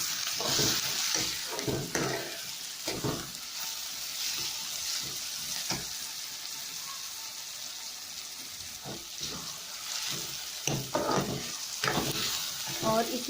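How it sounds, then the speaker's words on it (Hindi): Tomatoes go into a pan of lightly browned onions and sizzle steadily while being stirred, a soft frying hiss with scraping stirs, cooked for a bottle gourd curry. "अब इसमें हम टमाटर ऐड करेंगे।"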